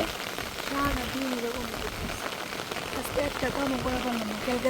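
Rain falls steadily over a rural Bengali homestead during the paddy harvest, a soft continuous patter throughout, with a voice speaking over it.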